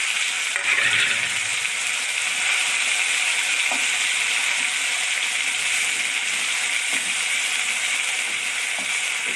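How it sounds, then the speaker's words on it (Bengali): Spinach with a little water hitting hot oil spiced with cinnamon, cloves, cardamom, bay leaves and cumin for palak paneer gives a loud, continuous sizzle and spatter. A few faint clicks sit under the steady hiss. "একটু জল থাকে তো, ছিটে ছিটে যাবে"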